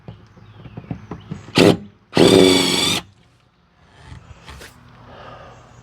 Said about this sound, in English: I'm going to drill the heads off of them.